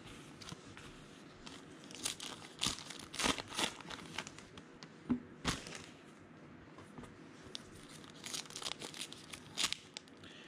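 Baseball trading card packs from a 2019 Diamond Kings box are torn open, with close, quiet crinkling foil and sharp ripping bursts scattered over ten seconds, plus soft shuffling of cards.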